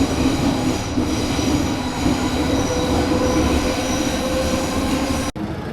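Metro train running through a tunnel in Italy, a loud steady rumble with sustained wheel squeal and high rail whine throughout, cutting off abruptly near the end.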